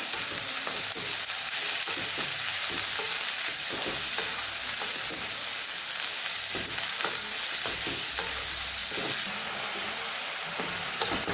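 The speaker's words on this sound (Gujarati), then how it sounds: "સાથે જ આપણે લીલું લસણ પણ ઉમેરી દઈશું સરસ આપણે સાતરી લેવાનું છે" Green onion and green garlic sauté in oil for a Kathiyawadi-style khariyu, a steady close sizzle with repeated spoon scrapes and stirring clicks throughout, no voices.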